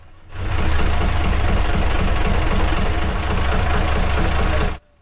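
A narrowboat's engine, heard on the Oxford Canal while its throttle cable was being fixed, runs loud and close with a steady rhythmic knocking chug. It starts abruptly, holds an even pace for several seconds, then cuts off sharply.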